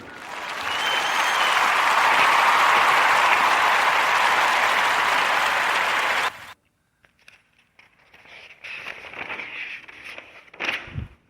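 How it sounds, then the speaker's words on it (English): A podcast audience gives a warm round of applause for two inventors and their Original Unbraider, loud and steady for about six seconds before cutting off abruptly, followed by quieter scattered rustling. "with a warm Narrator podcast round of applause for their invention, the Original Unbraider"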